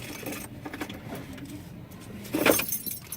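Keys jangle and clink in short bursts, loudest near the end, over a steady background rumble like the inside of a car.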